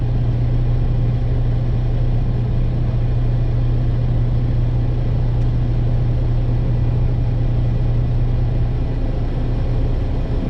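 A manual-transmission car's engine rumbles at low revs while the clutch is held partly engaged during a driving lesson, a loud, continuous, steady drone with a strong low hum and no talk.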